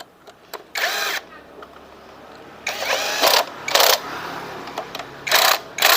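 Power tool bursts tightening bolts on a Honda Grand motorcycle, several short loud whirring runs of about half a second each, separated by quiet pauses, close by.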